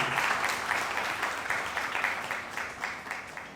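A church congregation at a Sunday service applauds and cheers the Lord, a dense, continuous wash of clapping from many hands that stays fairly even and moderately loud throughout, with no voice speaking over it.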